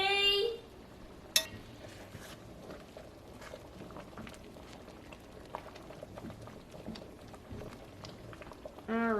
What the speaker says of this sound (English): I feel like we're boiling a little too much here.